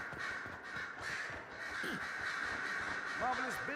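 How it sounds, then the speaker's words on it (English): Crows caw loudly and repeatedly in the Dragon Age Inquisition game world, harsh calls rising near the end over a steady ambient hum, with someone talking over them. "Loud ass crows."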